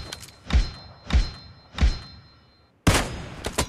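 Gunfire in the video game PUBG Lite: three heavy, booming shots spaced about two-thirds of a second apart, a short pause, then a sudden loud burst of rapid fire with no talking.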